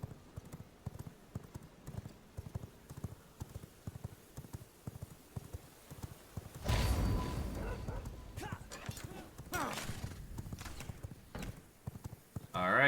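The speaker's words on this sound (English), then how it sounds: "Summon a horse." A summoned horse in V Rising galloping, with rapid rhythmic clip-clop hoofbeats throughout, followed by a louder rushing burst of game effects and a second swell near the end; a voice speaks briefly over the hooves.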